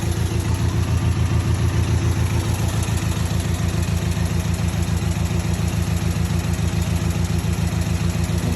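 A just-started car engine idles steadily and loudly up close, with a continuous low rumble and no voices over it.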